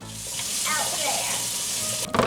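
Sausage fries in a pan with a little butter, giving a steady close sizzle with a brief clatter near the end.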